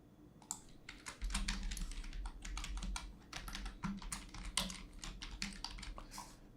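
Steady typing on a computer keyboard while entering Python code for a CSV file exercise, with quick irregular key clicks and occasional heavier thumps, close up and quiet, with no talk.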